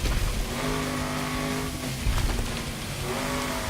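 Rally car engine in the game Gravel on a rain-soaked, slippery stage, holding a steady drone with some revving and a brief tire-squeal burst partway through, loud and continuous with no talking.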